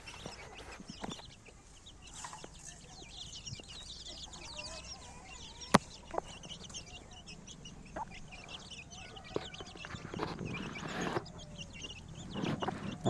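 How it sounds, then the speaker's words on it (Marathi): Twenty-day-old chicks peep and cluck in a scattered chorus, soft and close, with occasional sharp clicks and rustling; little else is heard. "वीस दिवसांच्या पिल्या आहेत मित्रांनो"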